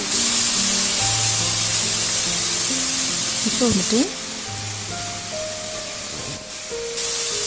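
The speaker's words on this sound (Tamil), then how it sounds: "ஒரு தக்காளி கட் பண்ணி இதோடு சேர்த்தாச்சு. அதையும் கொஞ்சம் வதக்கி விட்டுக்கோங்க." Chopped tomato and ginger-garlic paste sautéing in hot oil for a Chettinad mutton gravy, a loud continuous sizzle close up with brief stirring scrapes while someone talks over it and music plays beneath.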